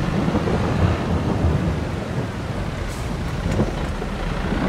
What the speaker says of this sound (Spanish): Hostia, como truena, ¿eh?